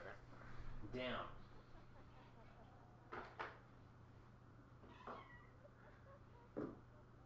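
A pet cat meows a few times in a Call of Cthulhu game scene, short harmonic cries spaced apart over a steady low hum, fairly faint with some background noise.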